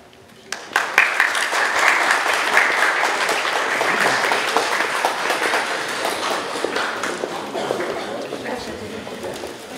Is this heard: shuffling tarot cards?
no